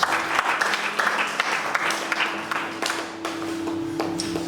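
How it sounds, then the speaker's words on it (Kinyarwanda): Congregation clapping during a church sermon, a steady, close round of applause with sharp individual claps and a sustained tone ringing through the room beneath. "Reka tumukomere amashyi menshi."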